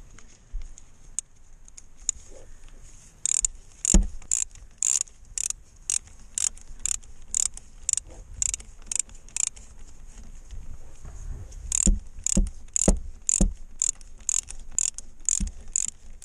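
A ratchet unscrews an injector on a Ford Transit, a long run of close, crisp metallic clicks in steady bursts with short pauses between strokes, no talking.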